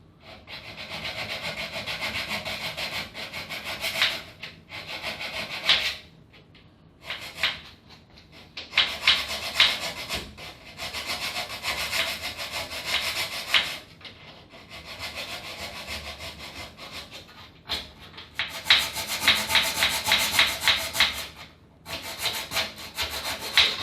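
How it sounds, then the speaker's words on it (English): A hand file works the corners of a wooden mortise lock recess, giving close, steady rasping strokes in bursts with brief pauses between them, alone with no voices. "So let's just file these corners out."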